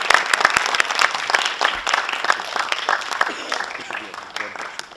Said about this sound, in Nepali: आप लोग चाहें तो ताली बजा सकते हैं।